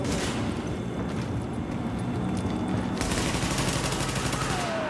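Sustained gunfire in The Division video game, with dense overlapping bursts of automatic and rapid shots continuing throughout at close range, growing brighter and more intense in the second half.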